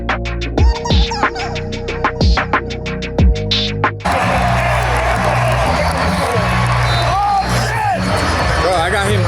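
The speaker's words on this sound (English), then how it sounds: "there's still a really good crowd here. They're still into it." Arena crowd at a Rockets vs. Hornets basketball game at the Toyota Center, first a few rhythmic claps and shouts, then a sustained loud roar of cheering and whoops filling the space.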